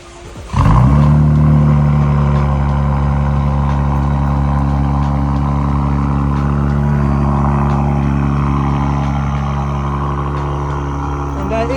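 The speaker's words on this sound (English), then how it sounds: "so cold start sounds pretty good, I'm not gonna lie, it's pretty loud" An Acura TLX Type S engine cold starting by remote start: a quick crank catches into a loud, deep, steady high idle that eases slightly over the following seconds, heard up close and alone.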